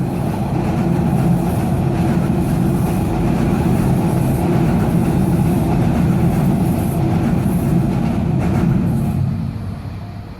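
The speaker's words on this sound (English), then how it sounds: "Next up is a SEPTA passenger train made up of 9 Silverliner 5s." A SEPTA passenger train of nine Silverliner 5 electric multiple-unit cars rolls past near the Northeast Corridor at Hamilton, a steady loud rumble and rail roar holding for about nine seconds before easing at the end.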